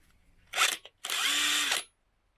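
A fake Makita LXT DTW285 cordless impact gun set to loosen on a low battery: a short burst of motor whine, a brief pause, then a longer strained whirring run that cuts off, close and alone.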